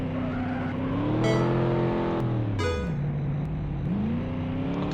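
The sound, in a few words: muscle car engine bogging down at launch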